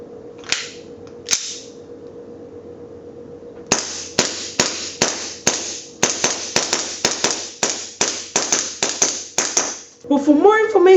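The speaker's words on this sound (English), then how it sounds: "Now let's do a little test shooting of the new CKW Custom." Test shots from a CKW Custom pistol ring out close and sharp: two isolated cracks, a pause, then about fourteen snappy shots in a quick, fairly even string, with a voice briefly speaking at the end.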